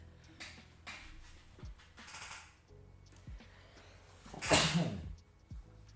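A single sharp sneeze bursts out loudly near the end, after a stretch of quiet background noise and faint movement.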